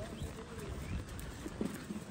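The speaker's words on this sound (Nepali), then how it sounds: "बाबाले यहाँ घोडामा सफा सवार गरेर सुन्तला बगैँचा घुम्दै हुनुहुन्छ" A horse carrying a rider walks through an orange orchard, its hooves clip-clopping in a few soft, uneven steps, faint and close, with voices talking nearby.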